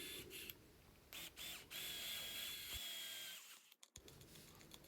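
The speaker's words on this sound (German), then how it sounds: "Jetzt werden die Löcher für die 6 mm Einschraubmuttern gebohrt." Power drill boring holes into wood for 6 mm threaded inserts while building a wood and epoxy resin coffee table; a steady high whine runs in bursts, then cuts out briefly near the end.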